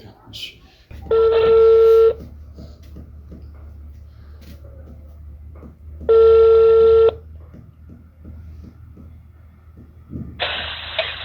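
A telephone placing a call, with two long electronic ringing-tone bursts a few seconds apart and a shorter tone at the end, clear over quiet background hum.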